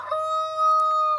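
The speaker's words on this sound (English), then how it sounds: "We have 115 roosters." Single loud, close rooster crow on a noisy farm with over a hundred roosters, a clear sustained tonal call lasting about a second.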